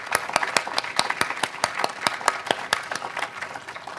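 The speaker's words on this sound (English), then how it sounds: "please give yourselves a round of applause" Audience applauding at a Montessori public school ribbon-cutting ceremony, a small crowd giving sharp, distinct claps in a quick, fairly regular rhythm at moderate loudness, with no voices over it.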